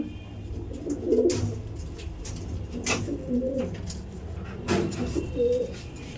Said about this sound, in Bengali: এখানে দেখুন পায়রা ফিডিং করছিল